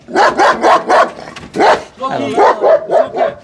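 A dog barks in a quick series of loud, close yaps with a whimpering whine in the middle, overlapping with people talking outdoors.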